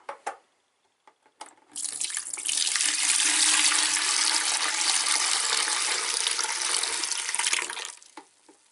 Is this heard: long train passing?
no